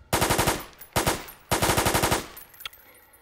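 Rapid automatic gunfire in the Oil Warfare Tycoon video game, three loud bursts of fast rattling shots separated by brief pauses, ending with a single faint click.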